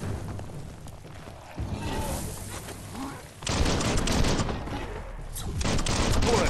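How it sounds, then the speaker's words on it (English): Gunfire from the video game Biomutant, with dense bursts of rapid shots and booms crowding the scene, loud and sustained through most of the stretch over a steady game backdrop. "Bullets everywhere."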